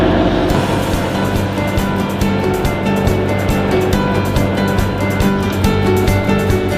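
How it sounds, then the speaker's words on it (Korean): High sea waves around a fishing boat in Korea ahead of a cod fishing trip, a loud, constant wash and surge of water mixed with boat and wind rumble, close and unbroken. "파도가 생각보다 많이 들어요."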